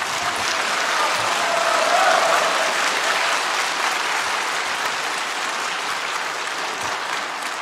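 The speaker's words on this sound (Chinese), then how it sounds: "我们再次以最热烈的掌声献给金灿荣教授" An audience at an entrepreneurs' summit gives loud, sustained applause after a professor's lecture. The clapping stays dense and steady throughout.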